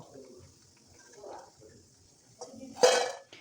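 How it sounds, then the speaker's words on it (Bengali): Crisp, deep-fried lentil fritters for Diwali laddu are tipped into a large bowl, giving a few soft knocks and then one louder hard clatter near the end, close by and quiet between hits. "আশা করি শব্দ শুনে বুঝতে পারছেন যে এই বড়াগুলো কতটা শক্ত হয়েছে, মানে মুচমুচে হয়েছে।"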